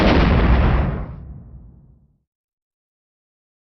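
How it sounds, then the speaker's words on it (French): Spaceship cannon firing effect: a single loud, booming blast that rolls off into a fading rumble over about two seconds, then silence. "Tirez avec le canon dans 5, 4, 3, 2"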